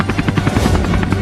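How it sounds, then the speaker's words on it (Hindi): A helicopter flies nearby, its rotor making a loud steady thudding chop over an engine drone, with no talking. "अरे वहाँ तो एक हेलीकॉप्टर भी उड़ रहा है।"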